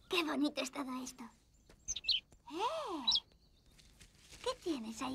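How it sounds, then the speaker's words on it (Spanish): A small cartoon bird chirps in short, bright bursts and sliding tweets, scattered between lines of animated dialogue spoken over it. "De repente apareció un pajarito y empezó a revolotear junto a Pedro"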